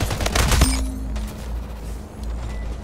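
Video game gunfire from the shooter Slipgate, with a dense burst of rapid shots up front giving way to quieter scattered firing and rumbling background noise, no talk.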